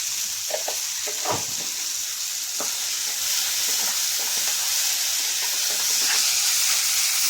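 Tomatoes and onions sauté in a pan with a steady, close sizzle, broken by a few soft scraping stirs and faint clinks, with no talking.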